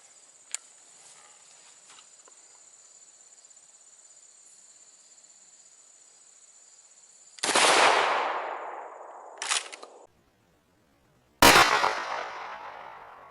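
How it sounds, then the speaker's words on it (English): Three loud, sharp blasts from a KSG 12 gauge shotgun firing 00 buckshot at an outdoor range, each followed by a decaying echo, after a stretch of quiet background with faint insect chirping. "Let's take a first shot at 15 yards."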